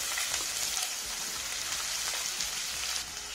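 Chopped onion is frying in about three tablespoons of hot oil with mustard seeds, cumin and green chilli, giving a dense, steady hiss and crackle that stays close and even throughout.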